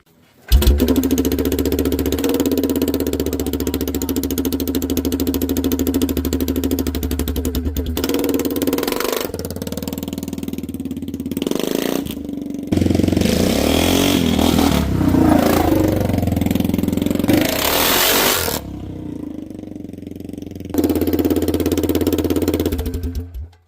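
The four-wheeler's engine runs very loud through a rusted-out muffler. A harsh, rattly idle roars close by for about twenty seconds, with several revs and brief drops in between.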